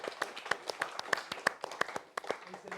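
A small audience at a talk on health and artificial intelligence claps for two speakers: scattered, uneven handclaps close by, with voices murmuring underneath.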